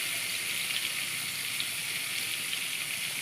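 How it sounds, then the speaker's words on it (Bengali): Crab frying in oil with turmeric and salt, a steady, loud, close sizzle of hot oil crackling without pause, with no voices. "এবার কাঁকড়াটা আমি ভেজে নেব।"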